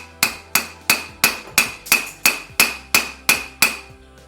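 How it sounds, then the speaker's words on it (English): A heavy 10-pound hammer strikes a Kawasaki Mule 500 FE290D engine crankcase eleven times in a steady rhythm, each blow a loud ringing clang that decays before the next. "I've opted for the 10-pound hammer, 8-pound, 2-pound"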